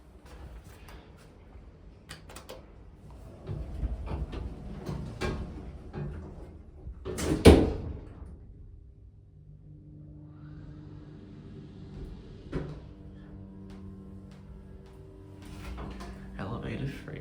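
The doors of a Dover Impulse hydraulic lift at Toombul Station, still on the original door operator, slide and thud shut with one sharp knock, followed by a low motor hum. People talk nearby.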